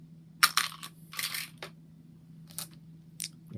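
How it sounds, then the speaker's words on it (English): Dice set down on a table during a Strat-O-Matic baseball game, a few quick hard clicks and rattles close by, separated by short quiet gaps, no talk. "So let's put these dice aside"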